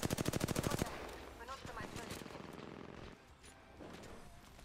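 Gunfire in Apex Legends: a rapid automatic burst of about a dozen shots up front, then scattered distant shots and game noise beneath quiet talk.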